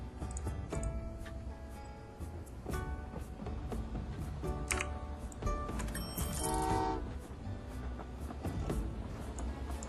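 A train made of two locomotives hauling a long string of copper cars rolls through the Train Valley 2 video game, with a steady rumbling background, dense clatter and bright horn-like toots, no speech.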